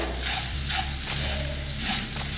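Sugar, grated coconut and cardamom are stirred together in a hot pan for a stuffed plantain filling, a soft steady sizzle with scraping strokes of the spoon, close and fairly quiet.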